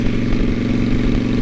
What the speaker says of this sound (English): Oh yeah, the exhaust sounds good.